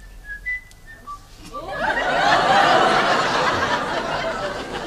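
Someone whistles a few short notes of a Gilbert and Sullivan tune from The Mikado, then the whistling gives way to a louder, rushing wash of broadband noise that fills the rest.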